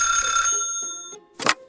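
A telephone rings with a bright, sustained bell tone that sounds close and clear, then fades, and a short burst of noise follows in a podcast setting.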